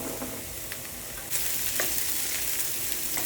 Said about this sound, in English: I'm gonna let this saute for about 1 minute more.